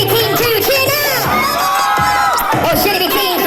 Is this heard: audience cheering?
yes